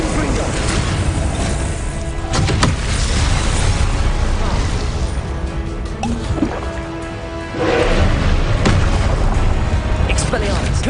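Repeated Confringo blasting spell explosions in Hogwarts Legacy, during Percival Rackham's trial, sound as loud, dense booms and bursts with crackling debris, several overlapping through a continuous, heavy din of combat.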